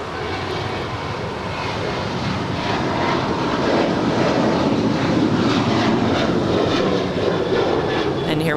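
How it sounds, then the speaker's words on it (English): A United Boeing 737-900ER takes off from LAX and banks, its jet engines producing a steady, loud broadband roar that swells slightly and holds throughout, with no clear talk. "And here we have United 388 off to Seattle. It's an 8-year-old 737-900 ER. Making that nice bank."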